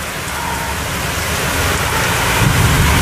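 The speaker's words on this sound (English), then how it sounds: "The rain is starting to blow its way. Over comes the wind." Heavy rain and gusting wind of a severe thunderstorm in Westbury on a July evening, a loud, dense, continuous roar of downpour that swells slightly toward the end, with no talk.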